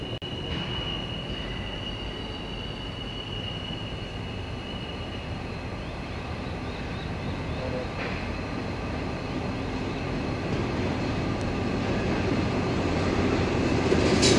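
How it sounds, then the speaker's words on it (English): A train approaching through the Yallamaloo Tunnel on a line toward Toowoomba, a continuous broad rumbling roar with faint wheel squeal that slowly grows louder as it nears, no voices. "So I can hear it coming now through the tunnel."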